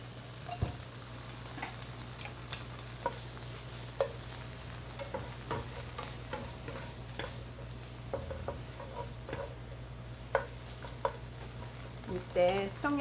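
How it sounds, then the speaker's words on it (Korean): Crunchy green peppers stir-fried in a pan for japchae, a steady close sizzle broken by frequent sharp clacks and scrapes of stirring, alone with no talk. "오늘의 고추, 아삭이 고추 피를 볶아 볼게요."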